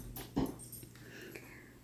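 A dog in a hotel room in New Mexico breathes and sniffs faintly nearby, with one short snort among quiet snuffles and breaths.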